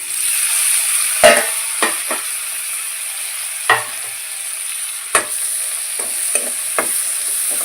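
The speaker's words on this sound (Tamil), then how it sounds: "தக்காளி போட்டு நல்லா வதக்கி எடுக்கலாம்." Tomatoes sautéing in a pan for village-style mutton gravy give off a steady close sizzle, broken by several sharp scrapes and taps of a spoon stirring against the pan.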